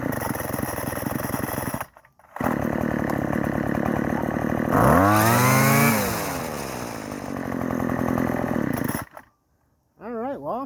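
A Craftsman string trimmer's small gas engine runs close by, revving up with a rising whine and then settling back to a steady buzz. A voice talks over it, and the engine drops out briefly twice.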